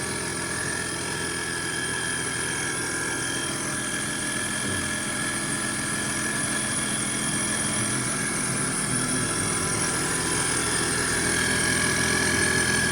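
BMW M3 E36 engine fitted with a Powerdyne supercharger, after-cooler and header runs continuously at a steady idle, a dense even drone with whine overtones close to the car, with no talk.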